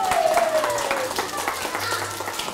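Wedding guests applauding in a hall, a steady wash of clapping from many hands, with a sliding tone and a low hum beneath it.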